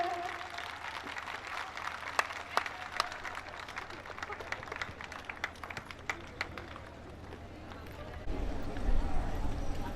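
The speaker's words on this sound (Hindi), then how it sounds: "जोरदार तालियों से खड़े होकर सर का" Audience applause welcoming a teacher at a polytechnic college farewell program, a steady dense wash of clapping from a crowd throughout, with louder rumbling noise toward the end.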